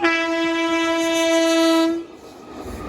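Train horn blaring loud and steady for about two seconds at a railway crossing, a single sustained blast that cuts off abruptly, leaving the rumble of the passing train behind.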